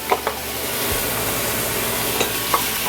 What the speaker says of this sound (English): just stir them around so they get to know each other a little bit